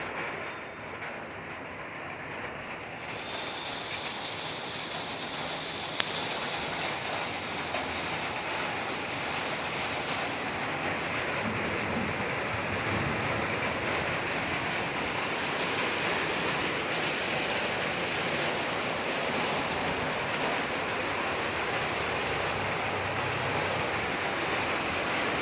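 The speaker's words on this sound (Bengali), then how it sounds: "শুনতে পাচ্ছেন বৃষ্টি" Steady rain pours down in a hilly area, a dense continuous hiss that stays constant throughout without pauses; no voices.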